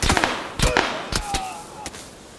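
Gunfire in the battle royale game PUBG Lite: several sharp, loud shots crack out at irregular intervals, each a short burst with brief ringing tails.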